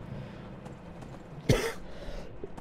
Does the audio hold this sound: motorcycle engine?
no